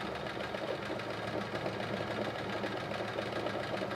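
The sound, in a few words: sewing machine rattling during free motion quilting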